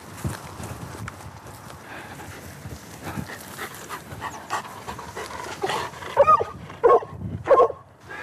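A search and rescue dog pants steadily while tracking a hidden officer across a field, with rapid breathing close by and rustling footsteps, building to sharper bursts of movement near the end.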